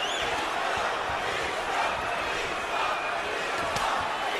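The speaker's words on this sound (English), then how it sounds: "Now the Klitschko rooters in the crowd begin to chant" A boxing arena crowd chants for Vitali Klitschko during his fight with Chris Arreola, a dense, steady roar of many voices that stays loud and unbroken throughout.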